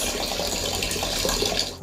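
Tap water runs steadily into a vessel being filled for dishwashing, a continuous close rushing splash that lasts throughout and cuts off sharply at the end.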